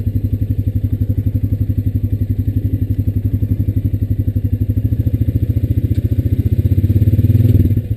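A Honda Rancher 420AT ATV engine chugs in a steady, rapid, close rhythm while pushing a fallen tree near a swamp, growing slightly louder and strained toward the end.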